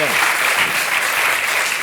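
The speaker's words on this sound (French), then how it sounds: "Ça peut s'applaudir très très fort, sincèrement." A TV talk-show studio audience breaks into dense, sustained applause that holds steady and loud from start to finish.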